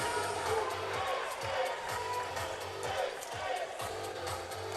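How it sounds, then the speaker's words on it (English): Crowd cheering after an ace serve at a women's volleyball bronze medal match between Newcastle Knights and Malory Eagles, a steady roar of voices with whoops rising and falling over a low rhythmic thumping in the background. "Love the ace cheer."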